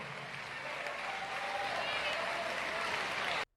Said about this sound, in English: Give Jonathan Jackson another great round of applause